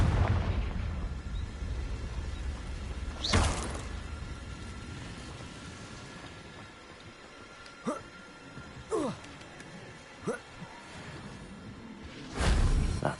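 Confringo blasting spells go off in Hogwarts Legacy as several rushing whooshes ending in booming blasts, one early and a cluster of shorter bursts later, with a low rumbling bed underneath.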